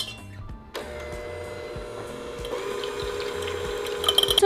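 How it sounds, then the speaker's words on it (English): A hand mixer starts up after a brief quiet and whirs steadily while beating egg yolks in a bowl, its motor hum growing slightly louder and rattling toward the end, with no talking. "using a hand mixer or a fork, we're going to beat our egg yolks"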